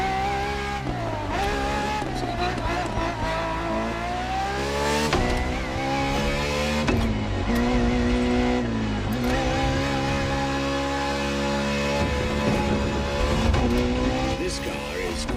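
A Ferrari FXX K supercar engine roars continuously while driving in the racing game The Crew Motorfest, its pitch climbing and dropping through repeated gear shifts, with faint tire noise and narration layered over it.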